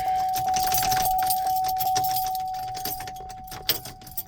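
Keys jangle and scrape in the door lock of a 2003 Chevrolet Tahoe, metallic rattling and clicks up close, with a faint steady hum underneath.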